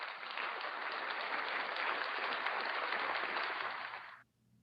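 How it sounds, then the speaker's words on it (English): Virtual round of applause for a program chair opening a research webinar: a dense, steady wash of many clapping hands that holds evenly for about four seconds, then cuts off abruptly into near silence. "let us give our program chair a big warm round of virtual applause"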